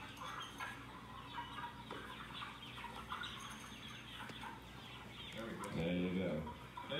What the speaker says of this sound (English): Goldie, do you see the chickens?